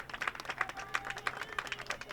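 A crowd at a Norwood vs. Norton varsity track meet claps for runners, with quick rhythmic applause that stays moderately close and steady through the short clip.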